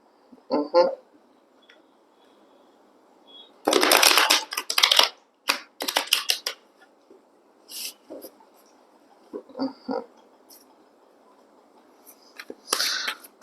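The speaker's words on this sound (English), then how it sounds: "Let me just shuffle this one more time" Several bursts of crisp paper-like tarot card shuffling, a long flurry in the middle and shorter riffles around it, close and fairly quiet.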